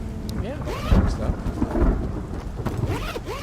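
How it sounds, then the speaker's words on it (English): Thunder rolls through a rainy lightning storm in the survival shooter Road to Vostok, with loud deep rumbles and cracks building over steady rain. "the lightning and thunder is kind of loud"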